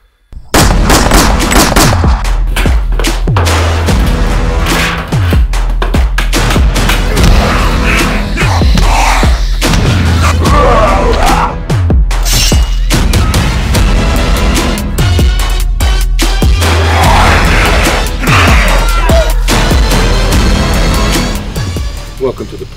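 Repeated loud gunshots and heavy booms crack through a movie trailer, hitting in a rapid irregular series over driving music, with voices talking between the bursts.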